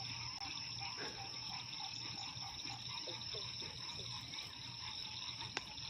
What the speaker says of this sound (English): The frogs are going crazy.